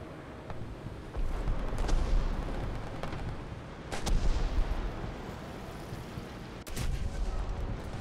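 Artillery fire in the War Thunder tank game, several heavy booming blasts landing at intervals over a continuous rumbling battlefield background, with no talking.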